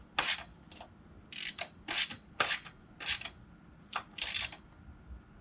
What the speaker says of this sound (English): I can go and just cinch this one down until it's snug.